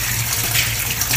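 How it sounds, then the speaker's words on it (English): Tap water runs steadily into a sink while a household tool is rinsed, a continuous close splashing flow with no talk. "Now, you rinse it, water on."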